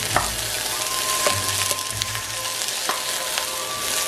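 Cauliflower stir-frying in a hot pan, a steady close sizzle broken by occasional sharp crackles and spatters.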